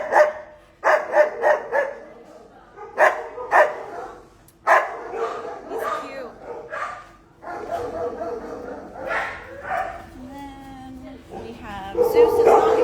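Several dogs barking, yipping, howling and whimpering at an animal shelter, loud overlapping bursts from close by, with a person's voice mixed in among them.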